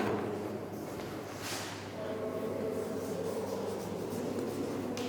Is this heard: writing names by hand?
yes